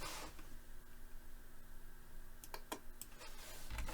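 Keys tapped on a computer keyboard while setting a millimeter size in laser-engraver software for a CD ornament project: a faint hum, then a short burst of several sharp clicks near the end.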